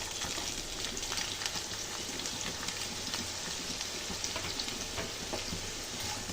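Half a kilo of chopped, washed radish fries in oil in a pan, giving a steady, dense sizzle and crackle close by that carries on evenly throughout.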